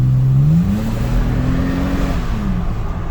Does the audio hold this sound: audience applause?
no